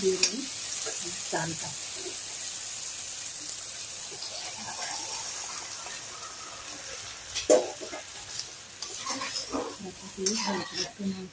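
Onion and garlic frying in a pan for restaurant-style dal, a soft steady sizzle with occasional stirring and utensil scrapes, louder clatter near the end.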